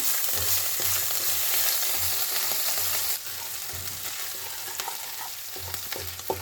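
Green chili and ginger paste cooks in hot oil with whole spices and a bay leaf for a spinach and potato curry, a dense close sizzle with repeated low stirring thuds and scrapes that eases slightly partway through.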